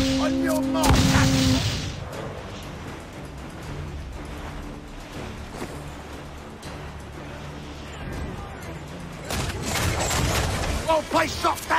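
Broadside cannon fire from a sailing ship in the naval battle game Assassin's Creed IV: Black Flag; booming shots near the start and a rapid rolling volley at the end, with shouted crew voices and sea ambience between.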